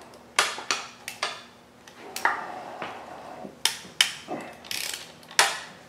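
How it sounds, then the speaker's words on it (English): A T30 Torx driver works the throwout bearing bolts loose during a clutch job on a front-wheel-drive car, making close ratcheting clicks, metallic pings and tool clatter in irregular bursts, with no voices. "grab my T30 Torx to take out the throwout bearing here"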